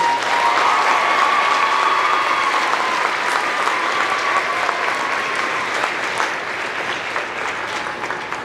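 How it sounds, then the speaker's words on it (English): Sustained applause from a festival gala audience after a teenage folk performance, a dense, loud wash of clapping that stays steady and slowly thins toward the end. "Let's give them another round of applause."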